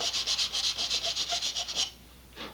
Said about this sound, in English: I'm just going to run the sandpaper over my rounded edges